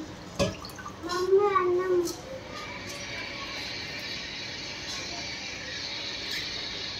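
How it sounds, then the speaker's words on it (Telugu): Water is poured onto soaked rice for a vegetable pulao, a soft, steady splashing stream that follows a brief knock and a moment of talk. "Now I'm adding this water to the rice"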